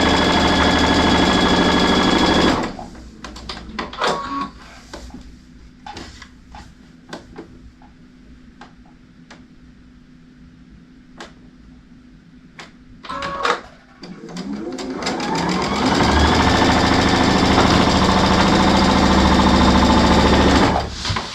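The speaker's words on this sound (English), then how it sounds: "now we're going to sew down" A sewing machine stitches a dog bandana pillow, running loud and continuous at the start and again at the end, with a quieter stretch of clicks and handling noises between the two runs.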